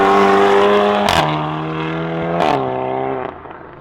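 A car accelerates hard past and launches, its loud engine revving high with two sharp gear-change breaks before the roar fades slightly.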